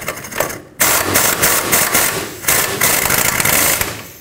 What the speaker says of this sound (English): let's tighten up this nut.